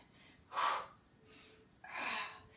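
Forceful breaths are pushed out through the mouth during a Pilates exercise: a sharp, loud exhale, a softer one, then a longer breathy release, close and without speech.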